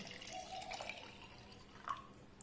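Faint, brief trickle of a glass of cold water being poured onto yogurt, with soft liquid gurgles and a small splash near the end.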